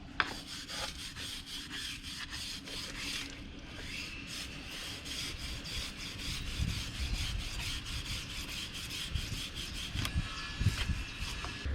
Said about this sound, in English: So I've got a wire brush and I'm going to give it a rub down